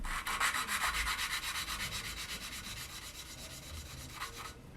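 Steady rhythmic gritty rubbing as valves are lapped with grinding grit on a 1950 MG engine, a rasping back-and-forth scrape repeating quickly and continuously, close up, fading slightly quieter toward the end.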